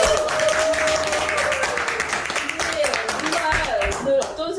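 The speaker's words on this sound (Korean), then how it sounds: "여러분 큰 박수로" Audience applause at a healing school launch ceremony: steady, dense clapping fills the whole stretch, with a voice and some tonal sound running underneath.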